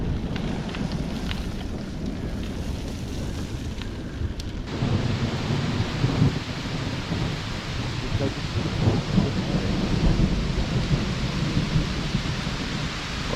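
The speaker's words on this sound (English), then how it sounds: "Well, that is thunder right over us." Thunder rumbles close overhead during a thunderstorm in the Wiltshire countryside, with rain and wind noise buffeting the microphone; the rumbling swells after a few seconds and rolls on, loud and continuous.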